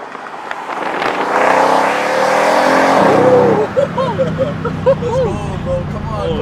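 A Ferrari sports car drives past, its engine loud and rising then fading over about three seconds while people talk and exclaim over it.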